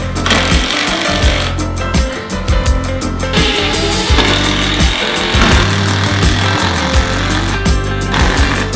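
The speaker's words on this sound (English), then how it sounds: "I'm gonna go ahead and screw it into that stud" A power driver drives a screw through a bathroom fixture into a wall stud during a bathroom renovation, giving a loud, harsh, rattling whir in close bursts with short pauses between them, with no talking.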